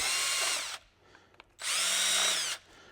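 A power drill widens holes that are just under 1/4 inch: two loud, close bursts of whirring, each about a second long, with a short quiet gap between them.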